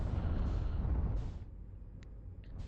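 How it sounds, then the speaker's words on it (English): A cannon in the Outer Wilds, sitting on the dark side of the sun, fires one loud, deep, rumbling blast that fades into a low hum, followed by a few faint clicks. "Why is it doing that? That's a cannon,"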